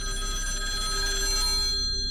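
A telephone in the game The Apartment 57 rings steadily with a bright, electronic trill, then cuts off abruptly near the end.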